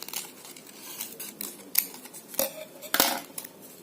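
Scissors snipping through folded paper to cut a single petal for a handmade paper flower, a few crisp close cuts with light paper rustling, no talking.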